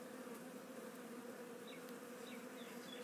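Honeybees buzzing in an open hive during swarm prevention work, a soft continuous droning hum with a few individual bees passing close, faint and steady with no voices.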